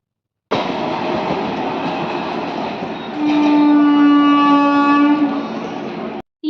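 A local train at a suburban railway station bound for Sealdah arrives loud and close, its rumbling roll joined midway by a long sustained horn blast, with no talk over it.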